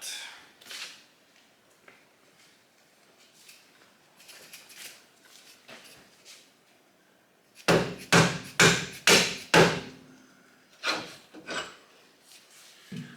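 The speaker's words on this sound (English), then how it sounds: "My mallet." A mallet knocks a Menscer shock absorber part loose, with a cluster of five or six loud, close thuds and scraping knocks in quick succession after quieter rubbing and handling sounds.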